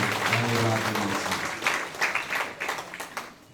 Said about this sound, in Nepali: ठुलो ताली बजाएर हामी प्रभुलाई धन्यवाद दिन्छौँ